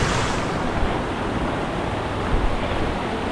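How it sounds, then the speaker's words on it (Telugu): A small river flows downstream in the Araku Valley, heard as a steady broad rushing wash of water with some wind rumble, constant and fairly loud throughout. "అక్కడ మీద నుంచి ఫ్లో అనేది ఇలాగ కంటిన్యూ అవుతూ అలా కిందికి వెళ్తుంది"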